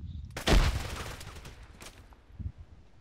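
Gunfire erupts during an attack in the military video game Arma 3: a sharp loud burst near the start, then fainter scattered shots and another crack a little later, with no speech.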